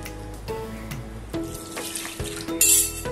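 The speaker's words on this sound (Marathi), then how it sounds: "तर आता आपण याच्यामध्ये पाणी घालूया" Water runs and pours into a bowl of rice flour for batter. The flow is close and continuous, with small splashy surges and clinks over a few seconds.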